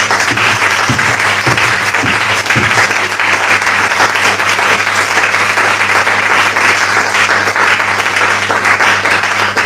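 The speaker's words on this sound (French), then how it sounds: "Acclamons le Seigneur Jésus. Les gens acclament comme s'ils sont malades." Church congregation applauding the Lord during a sermon, dense sustained clapping filling the room loudly and evenly throughout without a break.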